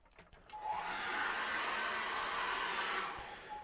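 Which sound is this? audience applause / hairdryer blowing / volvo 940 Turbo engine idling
hairdryer blowing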